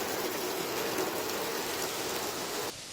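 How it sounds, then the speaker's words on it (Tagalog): Steady, dense rainfall hisses evenly and loudly for almost three seconds, then cuts off abruptly. "pabugso-bugso ang ulan mula kagabi"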